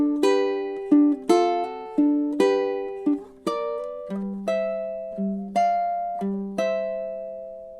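A ukulele plays through two measures of a blues progression in steady time, about a dozen bright plucked strums and notes, each ringing and fading, close and clear with no voice over it.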